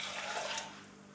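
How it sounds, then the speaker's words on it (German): Preheated water pours steadily into a pot of rice, a soft continuous splashing rush that eases off toward the end, heard alone without voices. "Ich nehme jetzt vorgewärmtes Wasser."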